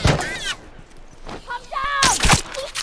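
Rifle gunfire in The Last of Us Remastered multiplayer, a few sharp loud shots at the start and near the end, with voices talking and calling out between them.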